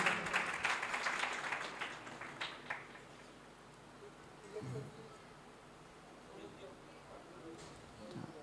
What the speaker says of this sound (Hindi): अम्मा जी के लिए एक बार जोरदार तालियां बजाइए